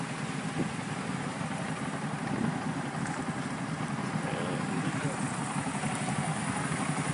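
A motorcycle engine idles steadily at close range with a constant mid-pitched rumble on the North Loop, with faint voices in the background.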